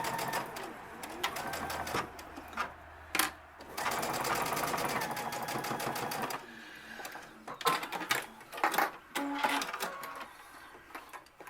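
A sewing machine runs in rapid bursts, stitching down both edges of a medical face mask, its close mechanical whirring and needle chatter stopping and restarting in several runs with short pauses between.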